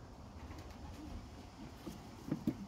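Soft, low racing pigeon coos rise briefly near the end over a steady background hum, a couple of short murmuring calls close by.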